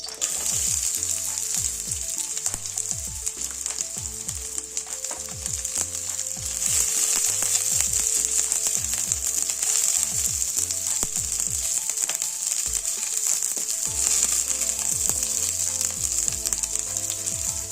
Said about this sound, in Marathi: आता कढईमध्ये तेल टाकून आपण सर्व पदार्थ आता भाजून घेऊया या पद्धतीने।